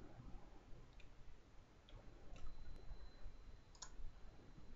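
Faint, sparse mouse clicks, about four or five single taps spread unevenly through a quiet room while working in SketchUp, with no talk.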